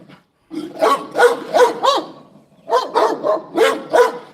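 Several dogs bark in two rapid runs of four or five loud, close barks each, separated by a brief pause.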